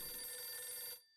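In the video game Hotel Dusk: Room 215, a telephone rings in a sustained, bright electronic tone that holds steady for about a second before cutting off into near silence, with no voices present.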